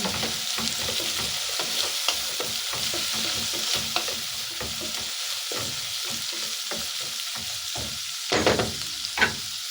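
Miswa noodle soup with patola and fish sauce being stirred in a pot, repeated scraping and clinking of a utensil against metal over a soft steady simmer, close and fairly loud, with a couple of sharper knocks near the end.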